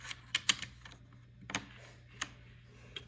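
A keycap is pressed back onto a Das Keyboard 4 Professional for Mac, giving a few sharp plastic clicks and taps spread out unevenly, close and fairly quiet, with no talking.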